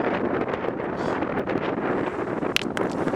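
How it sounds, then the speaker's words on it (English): Strong wind buffets the microphone on the beach at Saltwick Bay, Yorkshire, giving a loud, continuous rumbling roar with gusty flutter throughout and no voices. "The wind's absolutely bloody terrible."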